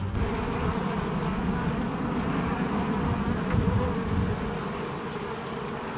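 Honey bees hum in a dense, loud, continuous buzz close by while a hive is opened for its first inspection after a cold Texas winter.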